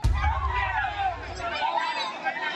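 Residents of Santo Domingo, Nueva Ecija shout and cry at the scene of a tricycle accident at an irrigation canal, a loud, close, agitated babble of many overlapping voices.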